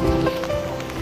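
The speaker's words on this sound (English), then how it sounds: "Yeah, it started to rain." Rain starting to fall outdoors in Tallinn's old town, a steady broadband patter of drops on surfaces, close and continuous for a brief second with no voices.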